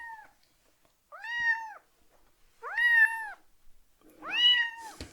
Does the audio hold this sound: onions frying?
no